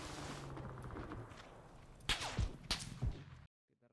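Several sharp gunshot cracks in PUBG on the Vikendi map, three or four spaced bursts over a busy background of engine-like hum, ending in sudden silence.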